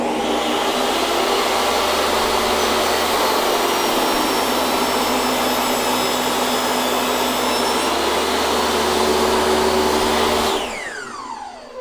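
A Dewalt 10-inch jobsite table saw rips a small piece of ash with a loud, steady, continuous whine and roar for about ten seconds. The motor then cuts off and winds down quickly near the end, with no talk.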